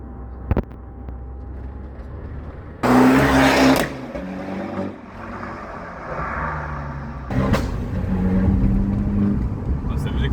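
An Abarth 595's engine pulls hard and close, with two sharp loud bursts as gears change, each crack rising above the running engine note before the revs settle again.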